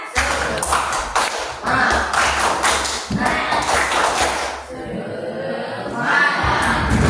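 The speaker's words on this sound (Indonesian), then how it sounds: "Ayo, tepuk semangat." A school class claps a rhythmic 'tepuk semangat' pattern together, sharp in-unison bursts of claps separated by short pauses, close and lively in a classroom.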